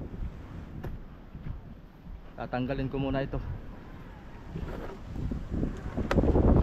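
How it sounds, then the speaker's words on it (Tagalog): Strong wind buffets and rumbles broadband near water in a boat setting, loud and continuous under someone speaking Filipino. "Malakas lang ang hangin."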